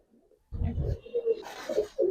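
A black male pigeon coos in a few low, throaty rolls close by, coming after a brief burst of rustling or handling noise.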